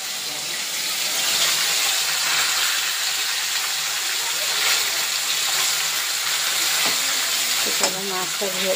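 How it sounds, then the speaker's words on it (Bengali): Fish sizzling in hot oil in a home kitchen pan, a loud, continuous crackling fry held throughout, with a few soft clinks of a utensil near the end. "মাছটা ভাজা হতে থাক।"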